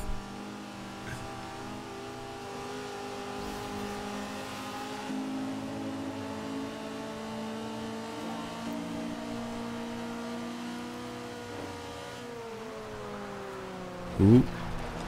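Two race cars, a Ford Mustang and a BMW, drone steadily in Forza Horizon 2, their engines holding rising and falling tones close together, with a brief thump or squeal near the end.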